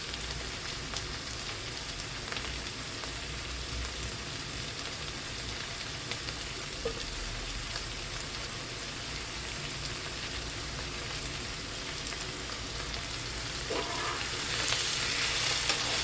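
Roughly chopped tomatoes frying in a pan for a home dinner, giving a continuous, even sizzle like light rain, close and moderately loud, swelling slightly toward the end.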